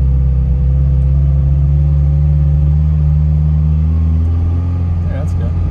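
A vintage Ferrari with a manual transmission pulls away gently, its engine a steady low rumble close by with a faint rising whine, as a learner driver is coached through the start.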